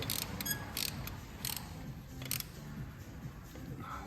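A ratchet wrench clicks in short bursts while undoing a manifold stud on a 2-litre diesel Jaguar XF, faint, close mechanical ratcheting over a low background hum.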